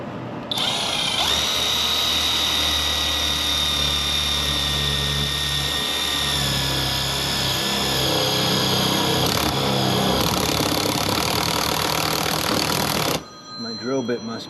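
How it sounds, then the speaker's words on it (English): Power drill whirring steadily while boring into material during air-conditioning service work, continuous and close with a fairly loud high whine that stops near the end; no talk over it. "My drill bit must be shot."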